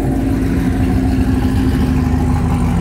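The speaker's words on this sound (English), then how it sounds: "This caddy is amazing. It sounds so good." A third-generation Cadillac CTS-V with headers and a lower pulley, running on E50, roars loudly and continuously under hard acceleration during a roll race, a deep steady engine drone close up with no talk.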